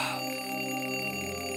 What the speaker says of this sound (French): Mais qui a mis l'alarme si tôt le matin?